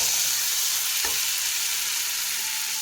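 Spices and tomato sautéing in a pan before potato and peas go in, giving a steady, loud hiss of frying with a single soft stir partway through and no voices.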